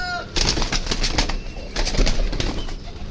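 Breeder pigeons coo and rustle close by, a run of soft, throaty, repeated calls with some wing movement.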